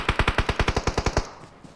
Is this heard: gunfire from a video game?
yes